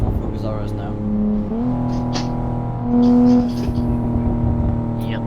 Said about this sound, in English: I'm just driving the full focus RS now